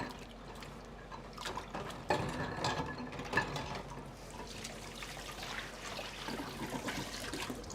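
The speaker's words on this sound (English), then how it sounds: "We will wash my hands again." Hands being washed under a running kitchen tap at a sink during a cooking class, a steady close trickle of water with splashing and rubbing, moderately quiet and without talk.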